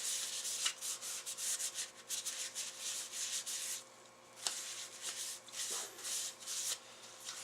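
Tub O Towels cleaning wipes rub over dirty Leslie speaker parts in a workshop, making close, repeated scrubbing strokes with short pauses and no voices.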